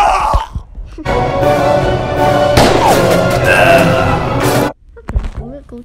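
Gunfire effects from the pixel-art shooter game SwordFish, a dense run of shots and game sounds lasting several seconds before cutting off, followed by brief speech.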